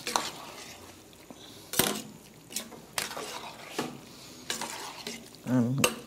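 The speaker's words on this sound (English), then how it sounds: "Stir for a while." Peas and rice fry in a pan while a utensil stirs, producing repeated scraping strokes and clinks against the metal over a low crackling sizzle, with a brief murmur near the end.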